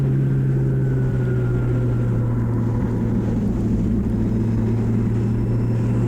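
A historic Formula Ford race car pulling hard in fourth gear on a circuit lap, a loud steady engine drone with a constant low tone and rising whine, close and unbroken throughout.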